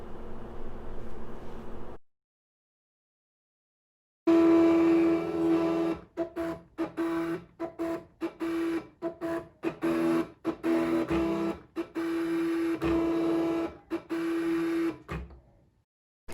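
A Cricut Legacy cutting machine runs a cut through a shape, giving a steady mechanical whir broken by frequent short stops and restarts as the carriage moves, fairly loud and close, with no talk.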